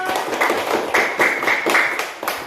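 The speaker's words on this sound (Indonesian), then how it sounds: "Oke, tepuk tangan untuk aku" Classroom applause for a student, a brief round of claps from pupils with sharp taps and a shrill tonal noise above, fairly close and loud.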